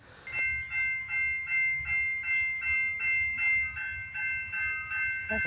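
A freight train rolls past on railroad tracks near a roadside parking lot, its loud steady rumble pulsing in a regular rhythm of wheels over rail joints, with bright ringing tones over it throughout and no voices.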